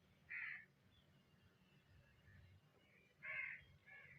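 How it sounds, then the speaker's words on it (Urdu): A crow caws twice in the distance, short harsh calls separated by a few seconds of quiet background. "شاید آپ بیک گراؤنڈ میں بھی آواز سن رہے ہوں گے کوے کی"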